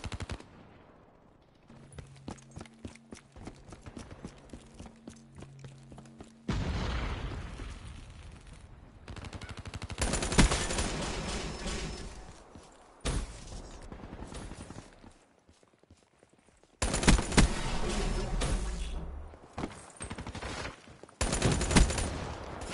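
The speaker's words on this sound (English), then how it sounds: "Oh, my teammate shot." Video game gunfire from a teammate in a hardcore team deathmatch, with loud bursts of rapid automatic fire, single shots and booms coming in waves between brief quiet gaps.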